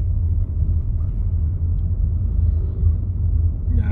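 Steady low engine rumble of a car creeping along slowly on a road at night, continuous and fairly loud with no talking.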